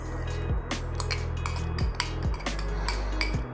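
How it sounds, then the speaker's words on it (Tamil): A spoon clinks and scrapes against a vessel while yeast is stirred into a homemade red wine mixture, giving a few close, irregular metallic taps over a faint background hum. "ஆட் பண்ணிக்கிட்டு நல்லா ஒரு வாட்டி கலந்து விட்டுக்கலாம்."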